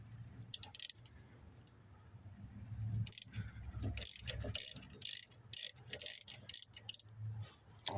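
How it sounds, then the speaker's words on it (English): A ratchet works on the timing belt tensioner pulley of a 1993 Ford Ranger 2.3: bursts of quick metallic clicking and clanking come up close, in irregular runs that grow busier toward the end. "So we're gonna re-loosen the tensioning on the pulley."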